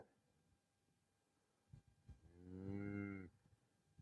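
A ranch cow with a newborn calf gives one long, loud, resonant moo after a couple of soft rustles. The call sits fairly close in a quiet outdoor setting, and no talk is heard.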